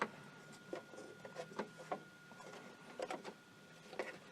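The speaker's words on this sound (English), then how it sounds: "There are a couple of screws to remove to get the base off" Screws being removed from the base of a Chauvet Intimidator Beam LED 350 moving head light, heard as faint, close, irregular ticks and scrapes of a screwdriver working, with no speech.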